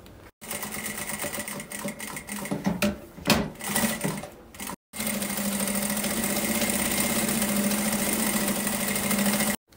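A sewing machine stitches the edges and quilting of a thermal bag, running in a steady close whirring hum, broken by brief pauses and a short stuttering stretch midway before a long continuous run.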